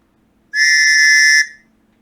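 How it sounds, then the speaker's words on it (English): A plastic Operation Lifesaver toy whistle gives one loud, shrill, steady blast of about a second, then cuts off cleanly into quiet. "Oh, it is a whistle."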